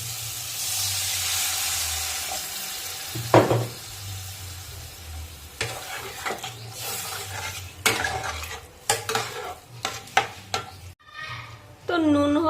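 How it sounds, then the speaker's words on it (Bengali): Water is poured into a hot pan of spiced, sautéed potatoes for a Lotte fish dish. A loud hiss and sizzle come first, then clattering spoon stirs and scrapes, and a brief high whistling tone near the end. "এখন আমি পরিমাণ মতন জল দিয়ে দেবো"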